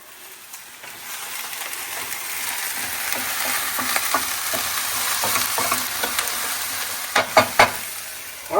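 Eggplant and spinach sauté in a pan with a continuous close sizzle that swells gradually, with scattered scraping stirs and a few sharp clicks near the end, and no voices.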